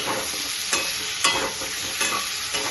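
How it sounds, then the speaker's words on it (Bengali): Taro stolons and potato being stirred in a pan for a Bengali curry, with a steady sizzle under sharp scraping strokes of a spatula roughly every half second to second, close and fairly loud. "কিন্তু তাও আর কি একটু কচুটা দিয়ে জাস্ট নাড়াচাড়া করবো।"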